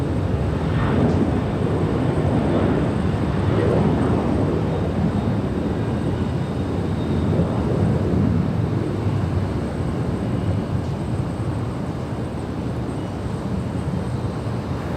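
An airliner taking off from runway 24 Left at Los Angeles International Airport gives a loud, steady jet roar that fills the whole stretch without letting up.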